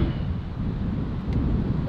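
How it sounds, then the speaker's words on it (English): Steady low wind buffeting across an open golf course, a constant broadband rumble and rush with no talk, holding at an even level for the whole moment. "there's a bit of wind there, isn't there?"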